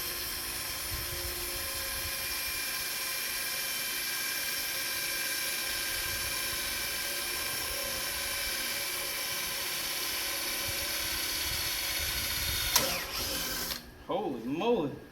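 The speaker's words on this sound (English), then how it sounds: "Drill some holes on the corner so we can make it round." A power drill runs steadily as it bores small holes into the corner of a stout metal piece. The whine is continuous, loud and close, then stops near the end with clattering handling noise.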